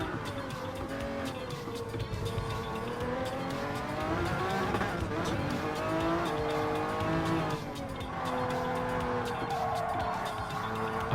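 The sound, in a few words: Group C race car accelerating on track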